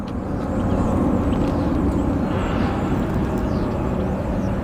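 Embraer regional airliner at Phoenix Sky Harbor airport, a steady, loud broadband jet roar that holds at an even level throughout, with no talk over it.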